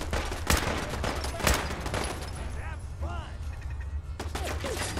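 Turret gunfire rattles in Fallout 4, dense bursts of shots with sharp cracks and a steady background roar, loud, while a voice talks over it.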